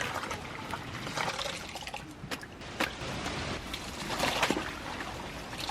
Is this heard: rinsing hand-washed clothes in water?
yes